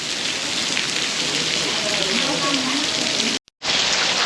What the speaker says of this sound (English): I wish it wasn't raining so much, I could go check it out.